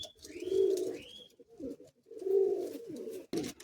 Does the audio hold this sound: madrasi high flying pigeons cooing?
yes